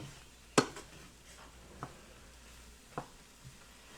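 Egg noodles are stirred in a skillet for a five-ingredient meal, with a few scattered utensil scrapes and knocks over a quiet background.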